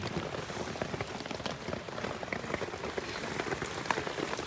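Steady rain patters on surfaces at a motorcycle campsite, a dense, even hiss of drops with scattered louder taps close by, with no one talking.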